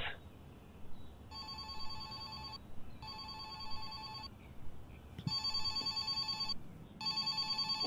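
A telephone rings with an incoming call, three bursts of bright electronic trilling separated by short pauses, clear and fairly near over a quiet, slightly noisy room.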